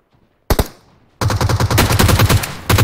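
Gunfire in PUBG Mobile on the Vikendi map: one sharp shot rings out, then a loud, rapid automatic burst rattles on steadily, close and dominant.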